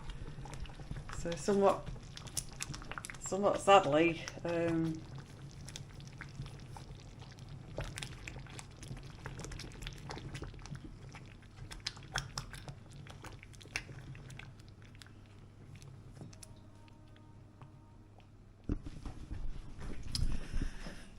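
A pot of chutney bubbles and simmers steadily in the background, with soft popping and plopping, while a person talks over it near the start.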